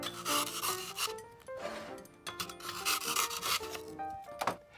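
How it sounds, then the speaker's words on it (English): Rough scraping and rubbing as a knife bevels the edge of floral foam for an artificial flower arrangement, in uneven close strokes of varying loudness with no talk. "We'll bevel the edge of the foam."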